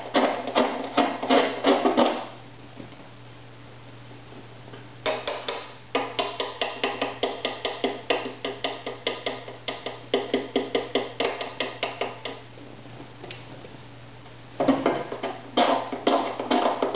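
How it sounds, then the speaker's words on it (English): A scraper works the wood of a stringed-instrument bridge during fine adjustment, making quick, close, rhythmic scraping strokes in bursts separated by short pauses. "more aggressive here with the scraper."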